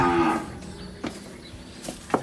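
Cattle moo on a farm near rice fields: one drawn-out low moo up close at the start, followed by a few fainter, shorter calls and rustles.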